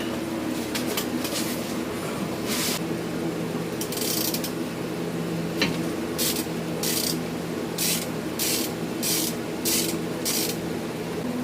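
Short spray-paint bursts coat a brake caliper bracket during a police Charger brake install, several hissing puffs of varying length spaced irregularly over a steady low background hum.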